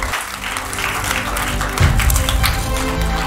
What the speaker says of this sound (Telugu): చప్పట్లు కొడదాం, చప్పట్లు కొడదాం.